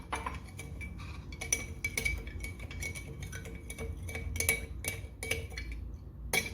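A spoon clinks and scrapes against a glass container while brown sugar is stirred into water, giving a quick run of close, bright, irregular taps with no talking.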